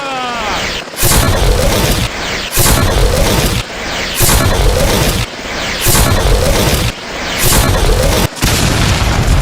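Drone fire and explosions in a video game, a series of six loud, heavy booming blasts in a steady rhythm, each sustained with a brief dip between them, no talk.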